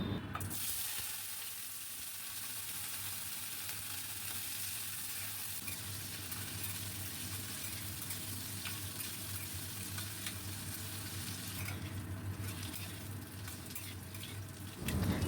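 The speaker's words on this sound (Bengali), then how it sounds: "আলুগুলোকে আগে ভেজে নেব।" Potatoes fry in mustard oil in a wok, a dense, even sizzle with crackling that holds steady and fairly quiet throughout, with a brief stir or shift near the end.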